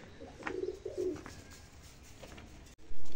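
A young fancy pigeon coos twice in quick succession close by, soft throaty calls, followed by quiet background and a brief thump.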